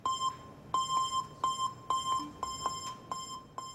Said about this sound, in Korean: 벨소리의 고음을 일반인들도 들을 수 있게 낮춰봤습니다